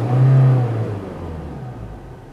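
Inside the cabin of a 2015 Hyundai Verna SX(O), a brief rev lifts the engine to a louder low drone before it settles back to a quieter idle hum, with no voices.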